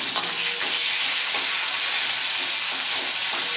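Whole garam masala, a dried chilli, bay leaf, cumin and half a tomato frying in hot oil for paneer kofta make a loud, dense, continuous hissing sizzle up close.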